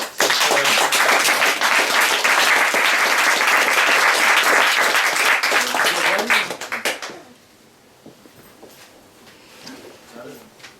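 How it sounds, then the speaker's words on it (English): An audience at an end-of-year party trophy presentation applauds loudly for about seven seconds, then the clapping fades out into quiet room sound with faint voices. "Big round of applause for Bob."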